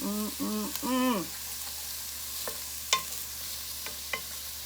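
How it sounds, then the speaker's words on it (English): Onions and garlic sauté in olive oil for a meatless chili, a faint steady sizzle under scattered utensil clicks, with a brief voice at the start. "the onions and garlic cooking. And the olive oil"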